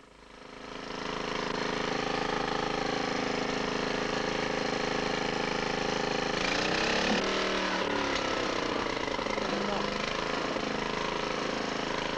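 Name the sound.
bulldozers clearing scrub and stumps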